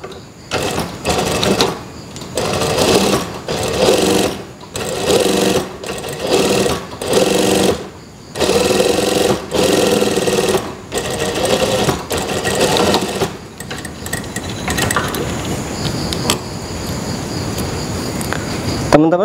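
A sewing machine stitches a sengkelit strap in bursts of fast rhythmic whirring, several runs separated by short pauses, loud and close, ending with a softer mechanical hum.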